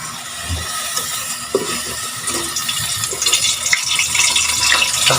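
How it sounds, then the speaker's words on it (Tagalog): Sautéing in a pan, a loud, steady hiss and sizzle that builds toward the end, with a few clanks at the start, close and with no speech. "Ngayon dito, magigisa naman ako."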